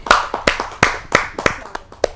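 A small audience at a Hindi poetry gathering claps in scattered, uneven bursts, a handful of distinct hand claps rather than a full roar, close and crisp.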